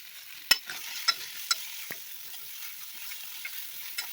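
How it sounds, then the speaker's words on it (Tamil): Coconut being sautéed with chana masala in a pan for chole bhature gives a faint, steady stir-fry sizzle, broken by a few sharp spoon scrapes and taps, with no talking. "இப்போது அந்த மசாலா கூட இந்த தேங்காய் ஒரு 1/4 கப் அளவுக்கு வரும். இந்த தேங்காய் இதையும் சேர்த்து நல்லா வதக்கிக்கலாம்."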